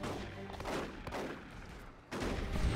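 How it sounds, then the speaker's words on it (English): A grenade detonating in the Dawn of War 2: Retribution strategy game, a sharp burst heard amid a dense clatter of battlefield gunfire during a one-on-one match, with a second loud impact near the end. "Nice grenade."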